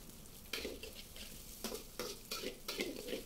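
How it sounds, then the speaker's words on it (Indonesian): Sliced bombay onion, about 150 grams, sautéing in a little oil for a 50-portion batch of green chili cooking, soft sizzling broken by repeated scraping stir strokes of a utensil against the pan, fairly quiet with no talking. "ini kita akan tumis sampai berbau harum"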